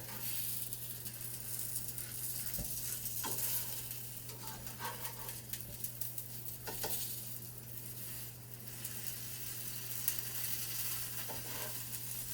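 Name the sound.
tortillas frying in a pan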